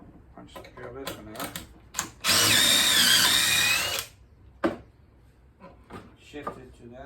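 A drill bores a pocket hole through a Kreg pocket hole jig during benchwork, one loud, high whine lasting under two seconds, framed by clunks and shuffling of the workpiece and a voice talking before and after.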